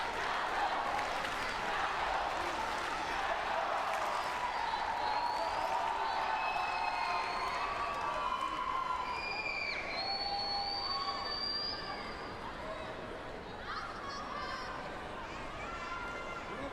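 Crowd cheering and applauding at a Paralympic judo match in Rio, a dense roar of voices and clapping that swells then thins, with whistles and shouts rising from the arena and a commentator talking over it.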